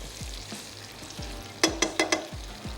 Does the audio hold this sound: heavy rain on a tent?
no